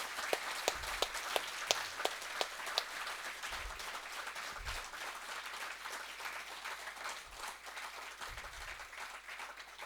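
An audience applauds poets at a youth poetry gathering: a few sharp, distinct claps come first, then softer, thinner clapping continues at a distance in a quiet hall.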